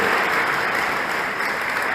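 A church congregation applauds, a thick, continuous burst of many hands clapping, loud and even from start to finish.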